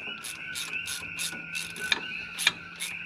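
A wrench ratchets while putting torque on a brass part of a John Deere 450 dozer. About eight quick clicking pulls come in a regular rhythm, close and moderately loud, with a couple of sharper ticks near the end.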